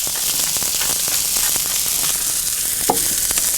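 Scallops sear on a hot Kamado Joe grill, giving a steady close crackling sizzle with scattered pops and small clicks, no voices over it.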